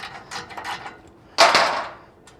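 Air impact gun loosening bolts on a 1981 Corvette, heard as a few short rattling bursts followed by one louder, sustained burst of hammering that fades out, close by in a garage.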